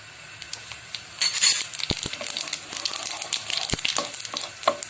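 Cumin seeds and whole red chillies fry in hot oil, giving a steady close sizzle with brief crackling bursts and a few sharp clinks of a utensil against the pan.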